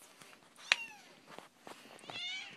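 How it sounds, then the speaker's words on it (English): Foster baby kittens meow at feeding time, giving several short, high, close cries in quick succession, with one louder sharp call standing out among the softer mews. "We're about to feed the baby kittens their mixture of kitten formula and dry and wet food."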